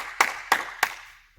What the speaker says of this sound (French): on peut s'applaudir tous très fort